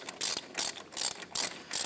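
A hand ratchet backs out a brake caliper bolt on a 2006-2010 Hummer H3 during front hub work, giving five quick bursts of close, crisp clicking in a steady rhythm, each followed by a short pause, with no talk.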